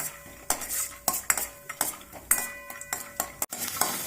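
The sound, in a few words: peanuts roasting and being stirred in hot oil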